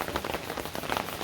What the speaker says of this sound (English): The next round of rain is here